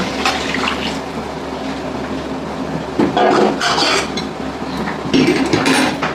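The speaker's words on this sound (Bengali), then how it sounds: "এবার আমি বাটিতে জল গরম বসেছিলাম বন্ধুরা জলটাকে দিয়ে দেবো" Hot water poured into a potato and egg curry in a pan gives a gushing splash in a few bursts over a background hiss, close and loud.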